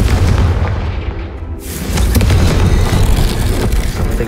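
A Confringo fire spell in Hogwarts Legacy bursts with a loud, booming explosion close by, followed by a sustained roaring rumble that fills the rest of the moment.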